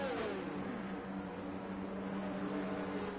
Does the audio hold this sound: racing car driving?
yes